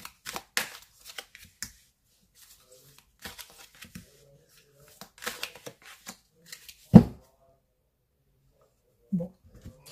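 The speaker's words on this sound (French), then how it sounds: "Alors, on va les brasser." Oracle cards being shuffled by hand, producing scattered papery riffles and soft slaps in irregular bursts with pauses between, close and fairly quiet.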